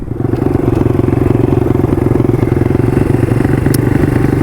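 A Rieju 150 RXF motorcycle engine runs steadily while being ridden, a loud, close, continuous mid-pitched drone with a rapid pulsing texture and no speech over it.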